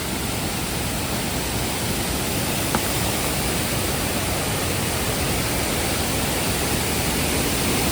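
A small waterfall and stream in a forest pará near Kudli, Revdanda, rushing steadily and close by as a dense, unbroken wash of water with no voices.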